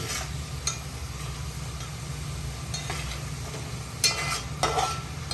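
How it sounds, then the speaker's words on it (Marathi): Ground masala paste for a sea crab curry sizzles steadily as it roasts in hot oil, with occasional stirring scrapes over a constant low frying hiss. "मस्त आता तेल सुटेपर्यंत ह्याला भाजून घ्यायचं."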